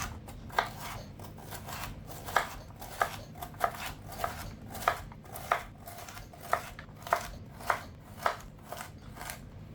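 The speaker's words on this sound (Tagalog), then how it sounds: "Halos magkakaparehas lang ang size ng hiwa ng gulay natin." Carrots and other vegetables, including bell pepper, are chopped with a knife on a board in a steady series of about sixteen crisp, close taps, evenly paced, with no talking.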